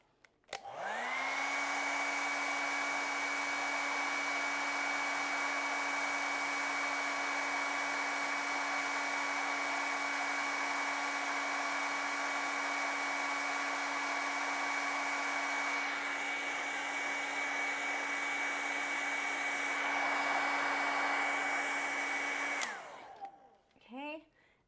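A hair dryer blows steadily on wet acrylic paint for about 23 seconds, a loud continuous whirring with a high whine, then clicks off at the end.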